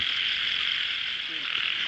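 A dense chorus of frogs croaks in a rice field in northeastern Thailand after rain, a continuous high-pitched trilling drone at steady loudness with no voices over it.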